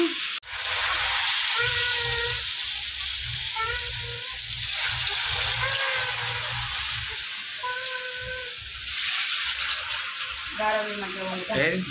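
Corn garelu (vada) sizzle and hiss steadily in hot oil, a continuous loud frying crackle with someone talking intermittently over it.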